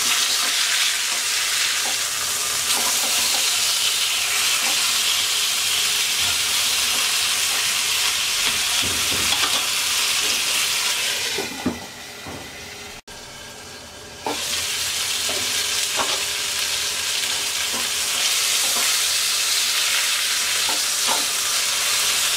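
Tandoori chicken pieces fry in a pan on a stovetop, a dense loud sizzle with spatula scrapes, briefly quieting as the pieces are turned over, then the hiss surges back steadily.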